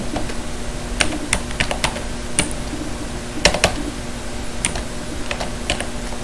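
Python code is typed on a computer keyboard in quick, irregular bursts of crisp key clicks over a low, steady background hum, with no talking.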